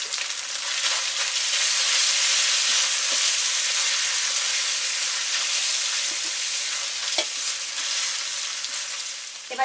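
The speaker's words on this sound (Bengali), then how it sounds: "মশলার সঙ্গে আদাটা একটু ভেজে নেওয়া হলো" Ginger frying with spices in a pan while a Bengali banana-stem dish is cooked, giving a steady, close hiss of sizzling oil that holds for the whole stretch, with occasional soft stirring clicks and no voices.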